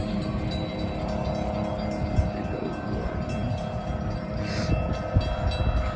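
A long train rolls past with a caboose at the rear, giving a steady low rumble and rattle of railcars with scattered squeals and clanks.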